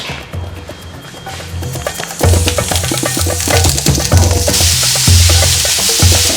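Onions tossed into a hot frying pan sizzle loudly, a dense crackling hiss that swells after a clatter and continues steadily up close, with scraping and utensil knocks.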